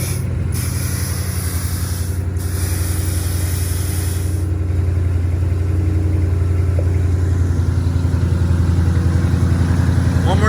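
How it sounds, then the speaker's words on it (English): A nitrous-equipped 2020 Shelby GT500 engine idles with a loud, deep, steady rumble, punctuated by a few sharp hissing bursts from the nitrous purge. "let's start up, let's see that purge, and let's hear how it sounds."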